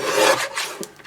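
Paper trimmer blade sliding through a sheet of 12 x 12 scrapbooking paper, a close, brief rasping cut with a couple of short scraping strokes, no voices.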